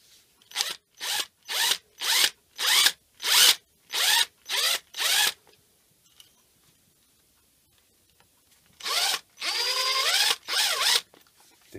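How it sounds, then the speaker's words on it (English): A small drill bit bores out a tiny rivet on a Tomica Winnebago toy car held in a vise, in about ten short, loud bursts of whirring, then a pause and a longer burst. "changed our drill bit to a little bit smaller drill bit"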